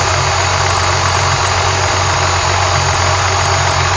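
A supercharged Ford Thunderbird engine idles during break-in with a steady, loud, close rumble and a continuous hiss and whine, unchanging throughout without any voices.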